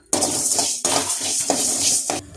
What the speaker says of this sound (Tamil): மல்லியையும் எண்ணெய் ஊற்றாமல் பொன்னிறமாக வறுத்து எடுத்துக்கலாம்